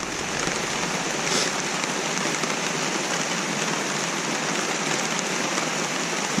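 Steady, dense patter of rain drumming on a taut tarp overhead at a Great Smoky Mountains campsite, continuous and fairly loud with no voices.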